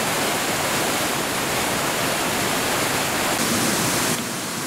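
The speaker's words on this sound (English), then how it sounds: "Oh, there's another waterfall in there." Steady, dense rush of falling water, a continuous broadband roar with no breaks, close and loud throughout.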